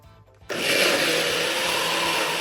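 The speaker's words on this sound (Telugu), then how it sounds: "కొన్ని వాటర్ పోసుకొని మిక్సీ పట్టండి" A mixer grinder starts abruptly after a quiet moment and whirs steadily at full speed, blending oats, whey protein and water, loud and close until it cuts off.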